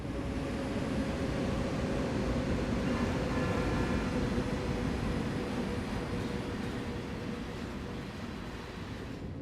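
A BNSF SD70ACe locomotive hauls a train on Cajon Pass in the snow in Train Sim World 3. It gives a loud, steady rumble of diesel engine and rolling wheels that eases slightly toward the end, with no voices.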